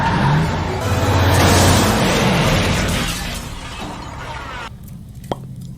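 A car smashing into a glass phone booth in the 1999 film The Matrix: a loud sustained crash of engine roar and shattering glass that fades out, followed by a brief sharp knock against quiet.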